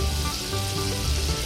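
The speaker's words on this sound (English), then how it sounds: "really appreciate that beautiful sizzle before we add our onions" A whole stick of butter sizzles steadily in a stew pot, a loud, close, continuous crackling hiss with no talking over it.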